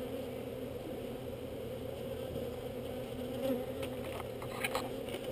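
Honey bees swarming as a colony is removed from inside a house wall, their dense, continuous buzz steady and close, with occasional louder passes near the microphone and no talking.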